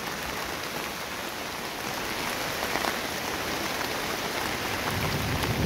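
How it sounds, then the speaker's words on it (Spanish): Heavy rain pours down steadily during a thunderstorm, a dense wide hiss of drops striking surfaces, loud and continuous without pause. "Miren nada más cómo está lloviendo bastante."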